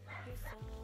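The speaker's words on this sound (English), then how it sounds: "I apologize for my dog, y'all." A dog gives a short whimpering yip and bark indoors, brief and fairly close, under a hum of room noise.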